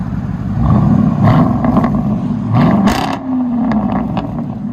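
A Dodge Durango SRT with a 6.4L HEMI V8 and its muffler and both resonators cut off, backing up nearby; a loud, deep, raspy exhaust rumble with a couple of throttle blips rising and falling.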